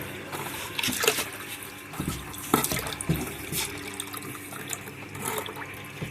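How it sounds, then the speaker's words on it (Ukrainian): Water draining from an underfloor heating circuit into a bucket as the system is bled of air, running and splashing steadily close by with a few louder gurgling bursts, no voices. "Злили відро води."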